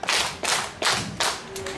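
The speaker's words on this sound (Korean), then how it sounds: "예, 박수 2번 반 시작." An outdoor crowd at a seaside nanta drumming show claps together in several short, loud, sharp bursts, each group of hands striking in near unison with brief pauses between.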